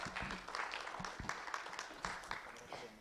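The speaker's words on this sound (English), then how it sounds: "let's give them one last round of applause as they step down." An audience at a Nairobi tech week event claps for departing presenters; the applause is fairly faint and uneven, with sharp individual claps standing out and a little talk mixed in.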